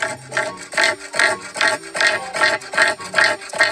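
A rhythmic series of loud, rasping, grunting cassowary calls repeats about every third of a second, harsh and close, with no other sound around them.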